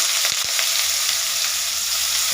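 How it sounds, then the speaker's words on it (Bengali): Potatoes dropped into hot oil, a couple of quick thuds followed by a dense, loud, continuous frying sizzle heard up close, with no voices. "তেলটা গরম হয়ে গেছে আলুটা আমি দিয়ে দিলাম"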